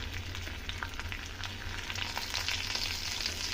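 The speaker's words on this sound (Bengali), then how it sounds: "এরপর আমি এখানে সর্ষের তেল দিয়ে দিয়েছি কড়াইতে। আমি এখানে 1 চামচ পরিমাণ তেল দিয়েছি। দিয়ে দিলাম এখানে গোটা জিরে" Whole cumin seeds sizzle in mustard oil in a wok, giving a quiet, even hiss with light crackles that holds steady for a few seconds.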